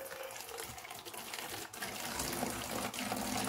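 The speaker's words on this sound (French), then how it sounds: "Je mets mon eau chaude" Hot water poured into a bottle while mixing a homemade cleaning product, a continuous close gushing pour that grows slightly fuller toward the end, with no talking.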